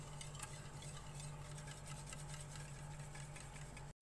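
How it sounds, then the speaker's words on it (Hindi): A spoon stirring an egg halwa mixture of eggs, sugar and milk in a pan, producing a faint, continuous scraping swirl over a low background hum that stops abruptly at the end. "इन सब चीज़ों को मैंने 1 मिनट के लिए अच्छी तरह से मिक्स कर लिया है।"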